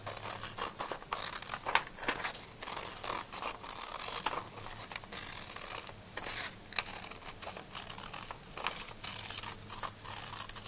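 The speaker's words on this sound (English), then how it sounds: "I'm going to go ahead and cut out my sun" Scissors cutting out a paper sun cutout, a series of close, crisp snips and paper rustles in an irregular rhythm, fairly quiet and with no talking.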